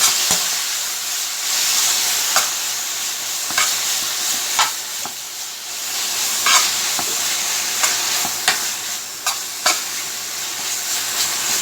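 A loud, constant sizzle rises from chicken stir frying in a very hot pot, with repeated clicks and scrapes of stirring against the metal at an irregular pace and steam hissing underneath.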